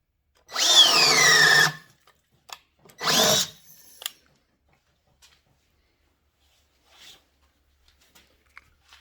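Two short bursts of a Ridgid R8600 brushed cordless drill driver with a 4 amp hour battery whirring up and spinning down, close and loud, followed by quiet clicks and handling noises.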